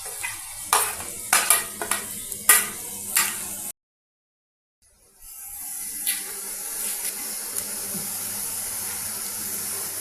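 Onion, ginger and garlic dropped one after another into hot oil with popping mustard seeds, giving sharp bursts of sizzling and spoon-stirring clatter, then a brief silence before a steady, quieter frying hiss resumes.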